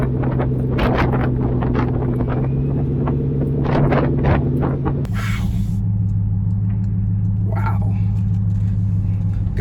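Supercharged Roush Nitemare Ford F-150 pickup engine rumbling loudly and revving in repeated bursts, then settling to a steady idle drone, close by with wind buffeting the microphone.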